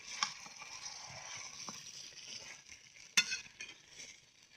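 Chicken pieces sautéing in hot oil during home cooking, a steady close sizzle with occasional stirring scrapes and a sharp clatter partway through, no talking.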